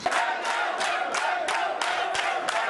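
A crowd at a public gathering in Toubacouta, Senegal, cheers and shouts in acclaim for the town's mayor, loud and continuous, with rhythmic surges of voices roughly every third of a second.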